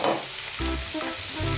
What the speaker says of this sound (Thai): เรากำลังสิเอาเครื่องไปทอดความหอมมันเกิดขึ้น